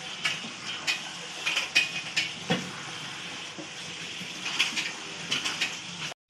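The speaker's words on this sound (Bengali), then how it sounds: "ওটাও আমি দিয়ে দিলাম, দিয়ে একটু হালকা হালকা করে নাড়িয়ে নেবো" Chicken stirred with butter and cheese in a pan, a steady sizzle with soft scraping strokes repeating throughout, close and alone.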